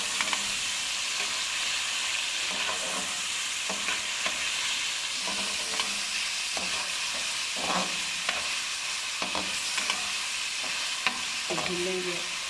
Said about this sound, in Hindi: थोड़ी देर बाद चम्मच मारेंगे कि नीचे चिकन जाएगा, ऐड कर दिया।